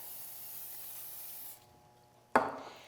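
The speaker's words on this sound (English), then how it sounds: "You want to spray the rack." A short, sharp burst of nonstick cooking spray hisses close by onto a smoker rack, fading quickly after a steady background hiss cuts out.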